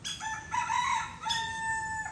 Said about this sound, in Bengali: ওই যে কুকুরু কুক মোরগ ডাকতেছে কুকুরু কুক